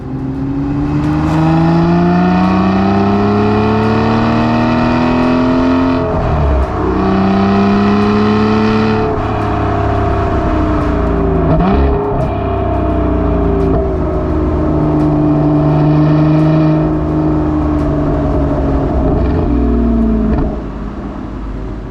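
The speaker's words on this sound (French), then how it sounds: "Ça fait partie des moteurs qui ont la plus grande sensibilité à la pédale, qui ont évidemment une musique incroyable." An Aston Martin V12 engine, as in the DBS Superleggera or V12 Vantage S, revs loudly and continuously, rising and falling through repeated throttle sweeps with a rich, smooth multi-harmonic roar close by and no talk.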